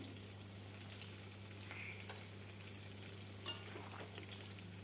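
Jackfruit curry sizzles in a pan as sugar and a spoon of ghee are stirred in, giving a steady, low, even frying hiss with a faint background hum and an occasional soft scrape of the spoon.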